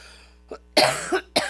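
A person coughs in a few sharp bursts, one short cough followed by two louder harsh coughs close to the mic, with quiet pauses between.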